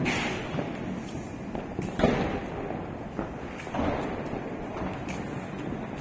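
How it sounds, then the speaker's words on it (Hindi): Firecrackers bursting across a town at night during Deepawali in Roorkee, a scatter of distant and mid-range thumps and cracks at irregular intervals over a continuous outdoor background. "पटाखों की आवाज,"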